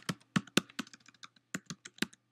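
Keys on a computer keyboard are tapped out in a short burst while a word is typed into Dreamweaver, the individual clicks sharp, close and uneven in rhythm, with no voices over them.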